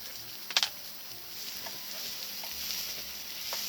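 Pork neck grilling under a covered lid at a winter campsite, giving a steady, soft sizzle with a couple of brief louder crackles early on, close and fairly quiet, with no talking.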